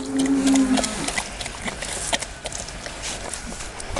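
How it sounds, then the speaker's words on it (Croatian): A cow in a rural village gives one close, loud moo right at the start, then outdoor farmyard ambience carries on steadily with no more calls. "Kravica."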